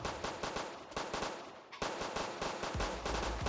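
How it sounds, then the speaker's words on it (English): Rapid automatic gunfire in a Roblox AI police simulator game, loud and continuous bursts of shots over about three and a half seconds with a brief lull midway. "The shooting is probably so loud."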